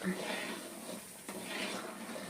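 Semolina (rava) being stirred into a hot pan on the stove for bansi rava uppittu, a steady scraping and rustling that runs throughout under constant background noise.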